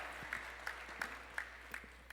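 Applause fills a church: a soft, steady patter of clapping with regular louder claps about every third of a second, fairly quiet throughout.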